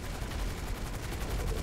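Rapid bursts of gunfire in GTA 5 Online crackle continuously in quick succession, a dense volley of shots with no voices.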